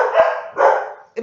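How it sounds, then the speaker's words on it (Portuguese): A house dog gives two loud, close barks in quick succession, followed by the start of a third, with near silence between them. "toda vez que eu vou falar desse assunto, meus cachorros latem"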